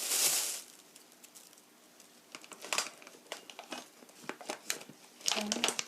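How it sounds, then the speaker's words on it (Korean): A plastic bag is handled while orange chicken is being prepared in a kitchen, giving soft, irregular crinkles and rustles that build into denser bursts near the end, fairly quiet and close. "이거는 비닐팩이에요. 플라스틱 백, 비닐팩에"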